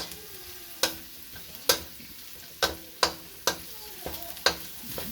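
Onions browning in a pan give a soft sizzle broken by about seven sharp spatula scrapes and knocks at an uneven rhythm, close and fairly loud.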